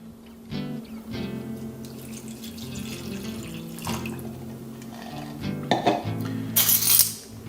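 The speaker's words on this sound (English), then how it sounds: "And we're going to add a cup of water." A cup of water being poured into a saucepan for a pickling brine of white vinegar and water, a continuous splashing pour with some clinks, heard close up over faint background music.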